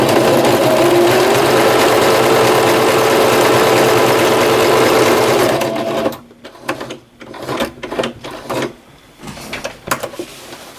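A sewing machine stitches a patch onto a jersey, running in a loud steady whir for several seconds, then in short uneven bursts with pauses between them.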